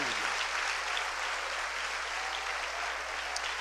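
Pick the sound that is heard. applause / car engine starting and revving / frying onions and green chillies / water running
applause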